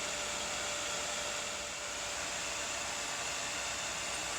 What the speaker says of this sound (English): you'll see it print the skirt that we talked about, and then print the